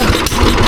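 An engine idles loud and close in a brief, steady rumble with a faint vibrating texture and no voices over it.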